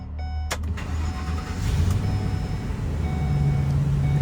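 A 2016 Ford E-350 Super Duty box truck engine cranks briefly and catches, then settles into a steady, loud, close idle with a low drone and no talking.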